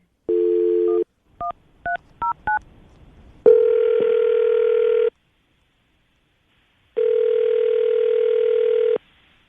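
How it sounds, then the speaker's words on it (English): A short beep, then a quick series of dialing tones, followed by two long, evenly spaced telephone ringback tones, clear and close. "Katie, we're going to get him on the phone right now"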